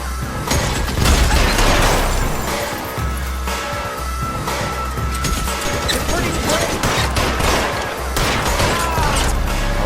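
Gunfight in the video game L.A. Noire Remastered: a loud, dense barrage of gunshots, crashes and thuds that keeps up for the whole stretch, with some voices faintly under the noise.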